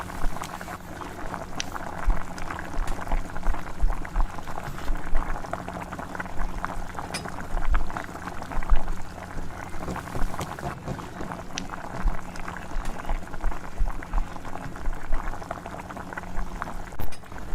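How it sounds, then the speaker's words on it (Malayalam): Kerala-style beef curry simmers and reduces in a pot over low heat, giving a steady, close bubbling and gurgling with small pops and sizzles that continue evenly throughout, with no talking. "അടുപ്പൊന്ന് ലോയിലിട്ട് തന്നെ കറി ഒന്ന് കുറുക്കിയെടുക്കാം"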